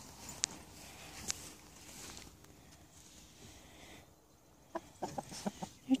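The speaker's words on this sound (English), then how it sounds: "They're chickens." Chickens cluck and scratch about nearby, soft intermittent clucks with a few sharper calls over quiet background, growing busier toward the end.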